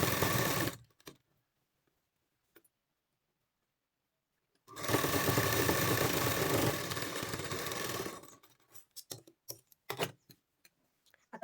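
A sewing machine stitches a blouse sleeve for fitting, running in one loud continuous burst of about three and a half seconds after near silence, followed by scattered sharp clicks and handling taps.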